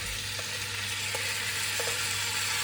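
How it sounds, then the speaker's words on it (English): Chicken sizzles steadily in a hot pan, a soft continuous crackle and hiss with a few faint clicks, no talking. "Should get hot enough now, and starting to get a little sizzle"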